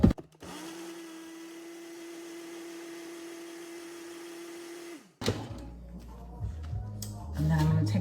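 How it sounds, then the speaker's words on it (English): A blender whirs at a steady pitch for several seconds, then stops abruptly, followed by quieter background sounds and music. "then I'm gonna put that on my blender as well"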